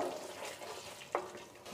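Masala is stir-fried on a medium flame for an egg and spinach curry, giving a soft sizzle with one sharp scrape of a spatula near the middle.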